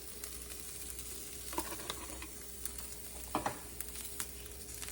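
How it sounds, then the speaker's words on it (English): Already-cooked meat going into a hot pan for quesadillas and tacos, giving a steady, fairly quiet sizzle and frying hiss with a few scraping stirs on top. "Add the rest of the meat."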